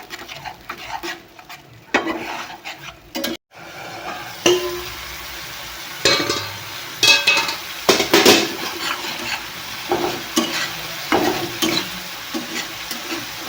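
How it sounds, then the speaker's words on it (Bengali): Tomato paste fries for a paneer curry, a steady close sizzle with repeated scraping and clattering of a spatula stirring the pan, including a brief pause near the start. "টমেটো পেস্টটা আমি ভালো করে কষিয়ে দিব।"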